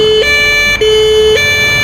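Ambulance siren in a paramedic simulator video game, a loud, close two-tone wail switching pitch in steady alternation, with no talk.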